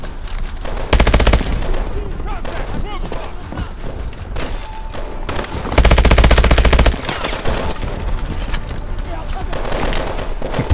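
Gunfire from the player's weapons in Call of Duty: Advanced Warfare, with rapid machine-gun bursts and scattered shots, including two loud sustained volleys, while someone talks over the action.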